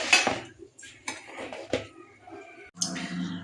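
A metal lid clanks onto a pot of Malabar spinach cooking with shrimp, a few sharp clinks and knocks spread over a few seconds as the lid is set in place, close and fairly loud.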